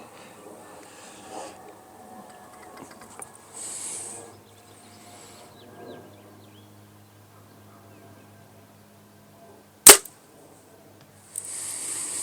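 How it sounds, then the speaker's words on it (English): An arrow loosed from a bow with a button release at long range gives one sharp, loud snap, standing clear against a quiet outdoor background with faint insect and bird sounds. "we're just going to shoot the rest of them in with the button"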